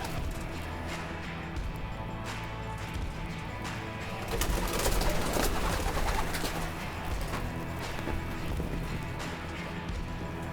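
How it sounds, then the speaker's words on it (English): Pigeons cooing inside a closet of an abandoned trailer, a steady low murmur of calls and wing shuffles heard at close range with a brief louder burst of activity midway. "there's a bunch of pigeons in that closet"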